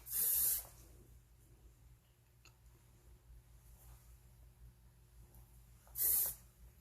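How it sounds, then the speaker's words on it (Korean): Two sharp bursts of hairspray sprayed onto styled hair during a ribbon-braid updo, one at the start and one near the end, each a short loud hiss over a quiet room. "이런 부분에도 스프레이를 좀 뿌려 놓으면 되겠죠."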